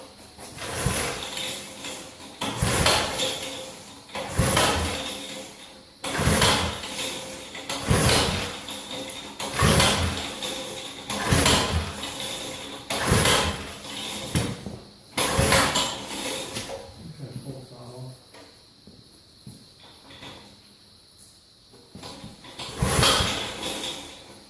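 Someone repeatedly pull-starts a Simplicity rototiller engine with the choke open and the throttle at half. There are about eight rhythmic, ratcheting cranking strokes, close up, and the engine never catches.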